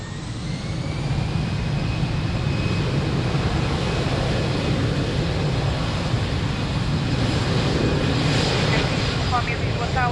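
A jet airliner departing runway 02 at Lisbon Airport, a steady, distant engine roar that swells slightly and holds for the whole stretch, with radio chatter faintly beneath.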